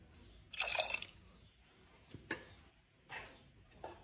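Water poured in a few short splashing bursts into a pot of chicken porridge being made as baby food, close and quiet, with pauses between pours.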